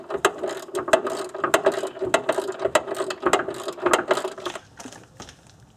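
Hand ratchet working on the rear strut top mount bolts inside a car trunk, a quick run of sharp clicking strokes in steady rhythm, close and clear, with no one talking.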